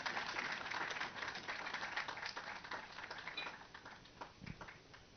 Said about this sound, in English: Please welcome him once more with a round of applause